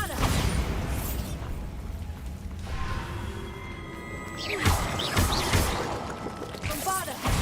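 Bombarda explosive spells in the video game Hogwarts Legacy smash things apart. A first burst is followed by crashing debris and a second impact with clattering fragments, moderately loud, with faint ambient tones underneath.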